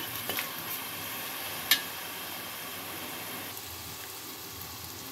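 Onions fry in a pan for a tomato and tuna fish gravy, giving a steady soft sizzle with one faint click, and no voices.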